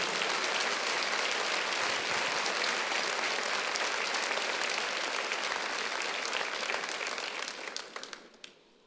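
A church congregation applauds loudly during a sermon, a dense, steady clapping that carries on for several seconds and then fades out near the end.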